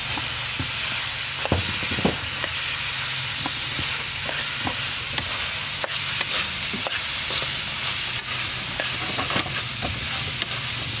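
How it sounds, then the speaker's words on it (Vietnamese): Tomatoes stir-fried in a pot with shallots, a steady sizzle broken by repeated scraping and clacking stirs, close up with no talking. "Cho cà chua vô xào luôn."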